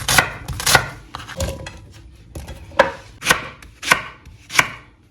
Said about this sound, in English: We'll start by cutting our vegetables and cook them.